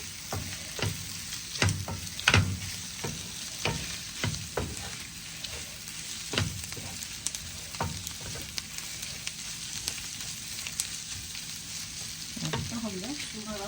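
Onion sambal being stirred in a frying pan, a steady sizzle with repeated scraping strokes of a spoon against the pan scattered through, fairly close and with no talking.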